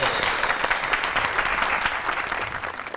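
A studio audience on a comedy talk show claps steadily and loudly for three seconds to welcome guest Maham Mirza, with no one speaking over it.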